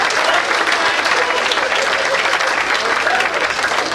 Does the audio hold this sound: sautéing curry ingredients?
no